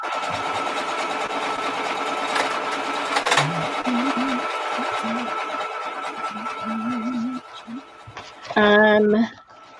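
A sewing machine runs in a steady buzzing stitch nearby, with brief scratchy handling noises and snatches of voice over it, then a short louder tonal burst near the end.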